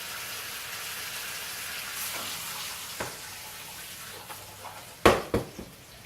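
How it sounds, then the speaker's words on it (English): Pan-seared pork chops sizzling steadily in a pan as knobs of butter are basted over them, a continuous close hiss broken by a few sharp clanks of a utensil against the pan near the end, with no talk. "now we're going to baste our chops, now that they're coloured, with some knobs of butter"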